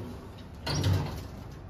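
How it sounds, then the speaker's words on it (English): A lift door opens in a building with a ThyssenKrupp destination dispatch traction lift, a brief close sliding whoosh and rumble rising over quiet background hum, with no talk. "Door opening."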